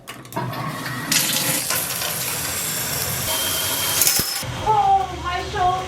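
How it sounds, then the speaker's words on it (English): A cold shower runs as a steady rushing hiss of water for about three seconds before cutting off, followed by a brief vocal exclamation. "I'm gonna go have a cold shower."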